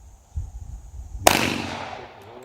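A single gunshot strikes a steel dueling tree target, giving one sharp crack followed by a metallic ring that fades over about a second, heard at moderate distance.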